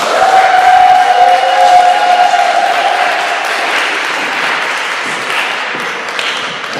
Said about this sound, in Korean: 강사님 나오실 때 우리 박수로 환영하겠습니다.